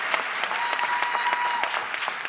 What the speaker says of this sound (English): We don't usually get claps for social workers.